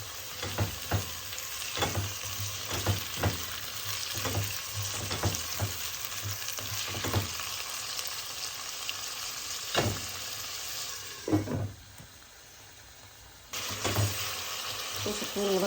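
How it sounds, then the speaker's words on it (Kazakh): Chopped meat fries on top of onions in a pan for a flour qurdaq. The sizzle is continuous, broken by repeated sharp scraping stir strokes, and briefly dips quieter near the end. "Осы қуырылып жатқан етіміздің үстіне"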